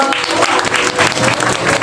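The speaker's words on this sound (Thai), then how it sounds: "ปรบมือครั บ" Wedding guests at a simple celebration clap together, a brisk, dense burst of applause from a nearby crowd sustained throughout the short stretch, with a faint voice beneath it.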